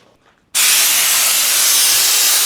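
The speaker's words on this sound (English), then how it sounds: "I'm going to go get that spray nozzle for the air hose." Compressed air blasts from an air hose spray nozzle into a trailer compartment: a sudden loud, steady hiss starts after a brief quiet moment and holds until it cuts off at the end.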